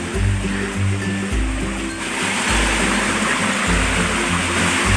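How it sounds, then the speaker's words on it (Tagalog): Water rushes steadily from a stream near a hidden mini waterfall on a hiking trail at Bulak, Matag, Leyte, a constant broadband wash with some low rumbling, fairly close and unbroken throughout. "may naririnig na kaming lagaslas ng tubig"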